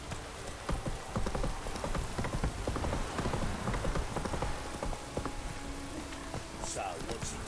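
Roach, the horse in The Witcher 3, runs with steady rapid hoofbeats on the ground, close and continuous amid game ambience, while a voice speaks over it.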